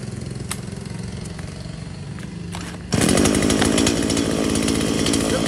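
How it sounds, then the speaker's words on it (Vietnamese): A used Japanese chainsaw, two-stroke engine, idles with a steady low putter and a few sharp clicks, then revs up abruptly into a loud, sustained high-pitched buzz close by, with no talking. "em sẽ giật test nổ cho anh em để cho anh em nghe"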